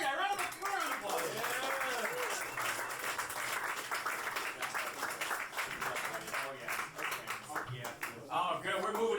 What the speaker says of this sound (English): hell yeah, round of applause